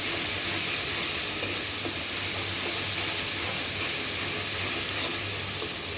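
Spiced curry with garlic frying in a pan, a steady loud sizzle and hiss running throughout with faint stirring scrapes underneath, close by.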